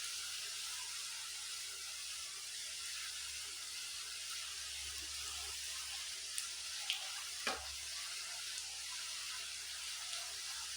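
Namkeen para, a crisp flour snack, frying in oil over a low to medium flame, giving a steady soft sizzle with a few faint clinks and a brief stir near the end.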